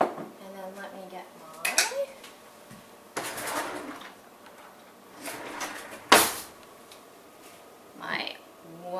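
Metal measuring spoons clatter and jingle as someone rummages through a kitchen drawer, with several sharp bursts of clinking utensils between quieter stretches and talk in between.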